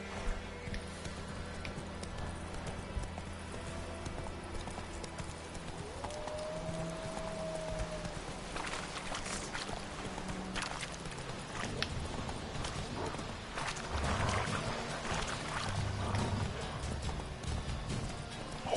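Horse hooves clopping in The Witcher III, a rhythmic run of hoofbeats under game music and ambience, with a brief whinny-like tone and a louder stretch of movement near the end.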